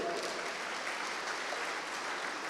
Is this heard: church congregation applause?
yes